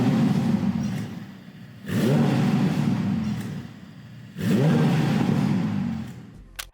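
A turbocharged Ferrari V8 car engine revs hard in two long surges, dropping to a steady idle rumble between them, loud and close with no talk.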